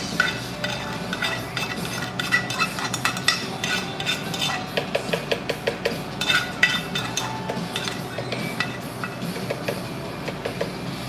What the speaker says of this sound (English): we're gonna use our spoon to scrape all this